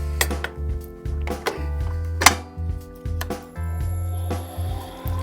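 A whisk beats an egg and sugar mixture toward the ribbon stage for egg-based buttercream, making rhythmic, close clinks and taps against the bowl over a pulsing low hum.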